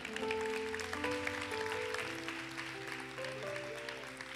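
Church congregation clapping for the Lord, a soft, steady spread of applause under sustained organ or keyboard chords.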